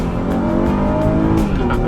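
A 2019 Honda Pilot's 3.5-liter V6 pulls hard under acceleration through its 9-speed automatic, a steady loud engine drone with rising harmonic tones and no speech.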